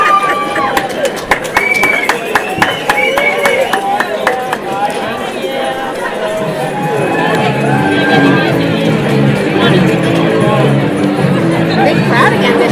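A large crowd chatters on the red carpet at a workplace awards event, a loud, continuous babble of many voices with scattered claps and footsteps, and nearby people talking over it.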